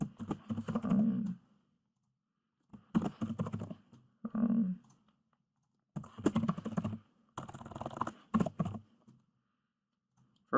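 Typing on a computer keyboard while filling in email and phone fields on a form: several bursts of quick clicking keystrokes separated by short pauses, close and moderately loud, with no voices.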